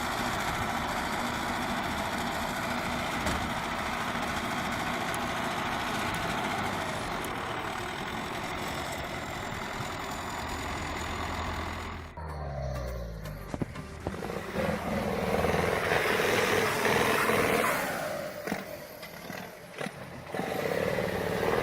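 A heavy off-road machine's engine labours in deep mud, a loud, steady low rumble that shifts partway through into revving, straining bursts with splashing and churning noise.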